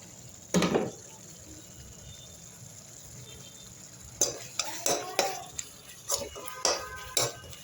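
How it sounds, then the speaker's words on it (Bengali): Onions with spices and coriander leaves stirred in a pan, a spoon scraping and clinking against the metal in short irregular strokes over a low sizzle, nearby, with no talk. "এবার পেঁয়াজটা কষে নেবো ভালো করে, মশলাগুলো নিয়ে একসাথে।"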